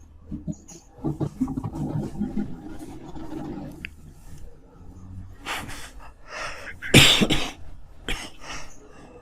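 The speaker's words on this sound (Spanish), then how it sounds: "es una tos espantosa" A severe, harsh cough bursts out once, loud and close, after a stretch of quieter background noise and breathing sounds.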